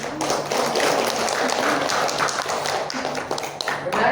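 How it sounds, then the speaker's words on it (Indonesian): A classroom of students claps for a classmate during a microteaching lesson, a dense patter of nearby hands that lasts several seconds and ends with a voice speaking over it. "beri aplaus dulu kepada dia"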